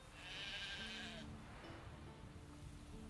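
A sheep bleats in The Witcher 3: Wild Hunt, one faint, drawn-out bleat early on over a low ambient game background, with no talking.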